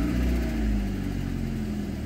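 A cold 1993 Alfa Romeo 155 1.8 TS with 130 hp holds a steady, loud drone at about 2000 rpm, the engine note even throughout with no talk over it.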